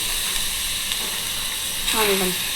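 Grated carrots hit a pan of softened sautéed onions for a carrot egg poriyal, a steady close sizzle with a brief burst of frying near the end.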